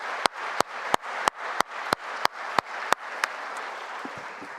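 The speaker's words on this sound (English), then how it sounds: "A round of applause" Audience applause at an event, a steady textured wash of clapping overlaid by a series of sharp, evenly spaced loud thumps about every third of a second that fade out toward the end.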